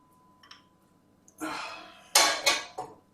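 Yeast and water are stirred in a bowl for whole wheat bread, a few quiet scrapes followed by louder clattering strokes of a utensil against the bowl, close and alone.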